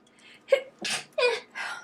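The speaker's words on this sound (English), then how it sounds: "oh, I'm gonna sneeze" A single sneeze breaks out after a few sharp preparatory breaths, close and fairly loud, followed by a short exhale.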